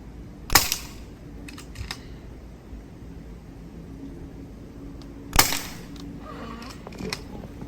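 An AirMaks Katran CB airgun fires two sharp, loud shots about five seconds apart at Christmas card targets outdoors, each followed by faint mechanical clicks and light impacts.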